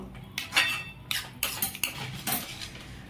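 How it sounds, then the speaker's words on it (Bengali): Spoon scraping and clinking through boiled peas and potatoes in a kadai while mixing vegetarian ghugni, a series of close, sharp metallic scrapes and knocks in short irregular bursts with no talk. "ভালো করে সব একসঙ্গে মিশিয়ে নেব।"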